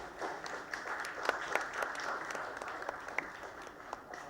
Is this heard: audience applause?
yes